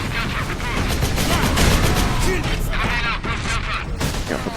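Rapid bolter gunfire and explosions roar continuously in the Space Marine video game, a dense, loud barrage that holds for several seconds with someone talking over it.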